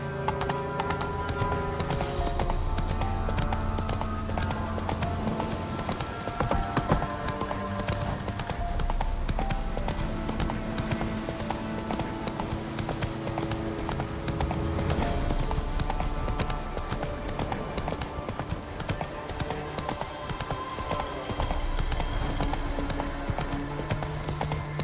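Horse hooves gallop in The Witcher 3 with a steady, continuous clip-clop rhythm and an occasional whinny, loud and close over a dense bed of game music.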